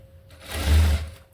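A sewing machine stitching blouse fabric in a short, loud close burst that swells and fades within about a second.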